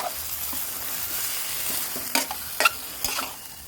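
Kale stir-fried with canned fish in a pan, a soft continuous sizzle with a few sharper clinks and scrapes of the spatula near the end.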